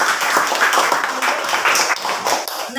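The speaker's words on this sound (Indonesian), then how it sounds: "Tepuk tangan." Schoolchildren in a classroom clap for a classmate who just read a speech, a close, loud burst of many small hands clapping, slightly uneven, with a few voices mixed in.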